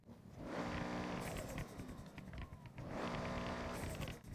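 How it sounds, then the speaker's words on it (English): A 1,057 hp turbocharged engine in Forza Horizon 6 revs up twice, each loud surge ending in a hissing, fluttering turbo release, heard close with no talk. "I'll let you listen to the little turbo sound because it's actually pretty funny."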